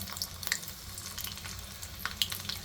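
Garlic fries quietly in hot oil for a dal, with a soft, faint crackle and a few small pops and spatters over a low background hum. No one speaks.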